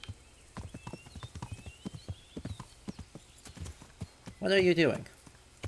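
Hooves of a horse named Pebbles clip-clop steadily in Kingdom Come: Deliverance while someone talks over them, and a loud whinny breaks out near the end.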